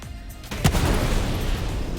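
Three size 4 missiles strike an Avenger Titan ship in Star Citizen, a sudden loud impact boom followed by a dense, sustained rumbling roar of blasts.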